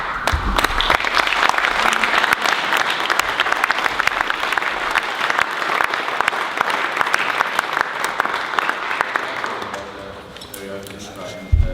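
Audience applause, a dense, loud wash of clapping from a crowd that holds steady for around ten seconds before thinning out near the end.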